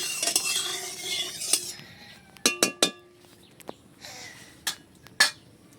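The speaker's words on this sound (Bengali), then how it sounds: "তেলটাকে একটু নেড়ে চেড়ে নিচ্ছি।" Oil being stirred in a pan before fish goes in, a soft sizzle at first, then a quieter stretch punctuated by several sharp metallic clinks and scrapes of a utensil against the pan, nobody speaking.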